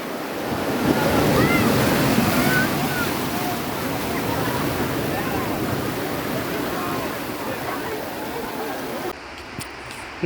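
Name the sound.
sea waves on the shore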